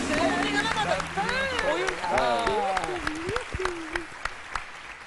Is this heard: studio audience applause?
yes